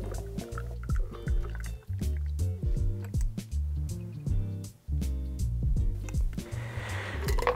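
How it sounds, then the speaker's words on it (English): A cocktail is fine strained from a shaker into a glass over ice, with close pouring and sloshing liquid in uneven gushes, brief pauses and small splashes as the liquid runs through the strainer. "now you don't have to fine strain it, but I'm going to"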